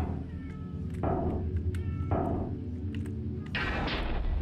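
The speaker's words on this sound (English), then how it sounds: "Oh, that's my cat." A domestic cat meows several times close by, drawn-out calls in a row over a dense, rumbling game soundtrack, with no speech on top.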